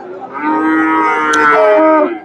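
A Friesian bull at a cattle market lows loudly and close, one long sustained moo swelling and fading over a couple of seconds, with no talk over it.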